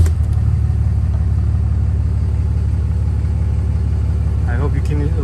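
A 2012 Ram 2500 SLT pickup truck idles after starting, its exhaust giving a steady, loud low rumble throughout, with a brief voice near the end.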